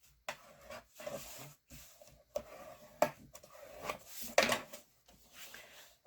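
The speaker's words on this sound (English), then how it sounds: "Burnish all those lines down good." A bone folder or similar tool burnishes fold lines on paper for a scrapbook album pocket, producing short, dry rubbing strokes in separate bursts with brief pauses between them.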